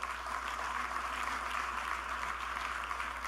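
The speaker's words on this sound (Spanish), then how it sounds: "Dale un aplauso al Señor si se lo quieres dar" Faint, distant applause from a church congregation at a Spanish-language service. It sounds like a soft, even wash of clapping with no voices over it.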